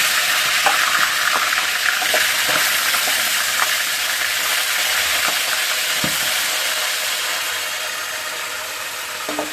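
Chicken pieces frying together in hot oil, a loud steady hiss and crackle that carries on throughout with occasional faint pops and clicks, gradually easing a little toward the end.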